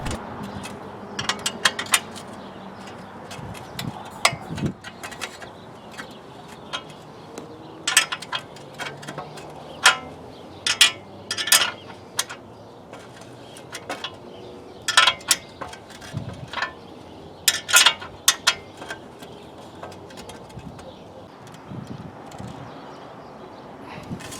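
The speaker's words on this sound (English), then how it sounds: "used a threaded rod to pull it up tight" Bike headset cups for a Cane Creek 40 EC34 headset on a Tomac Cortez frame being drawn in with a threaded rod press: repeated sharp metallic clicks and ratcheting clinks in irregular bursts, close up, with no talking.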